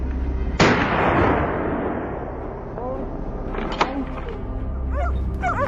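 Hunting dogs bark a few times, fairly far off, during a wild boar hunt in the forest, heard after a sharp crack amid broad rustling and steady outdoor noise.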